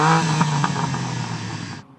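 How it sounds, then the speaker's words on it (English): A new BMW M3 G80 engine revs hard and continuously for nearly two seconds, loud and close, with a rough, clattering exhaust note that cuts off abruptly. "Jodie, go on, rev up the new G80"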